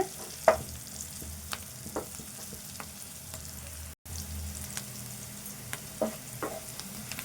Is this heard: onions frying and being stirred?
yes